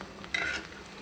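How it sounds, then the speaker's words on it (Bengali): Potato chops fry in oil with a soft, steady sizzle and a couple of brief brighter crackles, close and fairly quiet, with no voices. "এই যে দেখুন আমার আলু চপগুলো ভাজা হয়ে গেছে"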